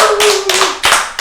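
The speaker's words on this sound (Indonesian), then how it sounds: "tiga-tiganya tepuk tangan lagi dong sekali lagi" A short burst of audience clapping, loud and close, with a sustained tone running underneath the hand claps for about a second.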